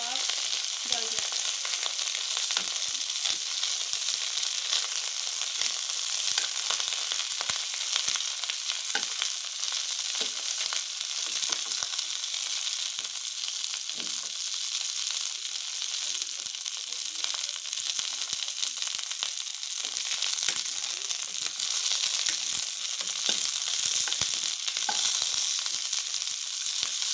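Cauliflower kebabs fry in a pan with a steady, even sizzle that hisses continuously from start to finish, with faint crackles and no voices.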